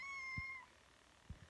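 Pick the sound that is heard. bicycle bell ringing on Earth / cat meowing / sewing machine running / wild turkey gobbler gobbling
cat meowing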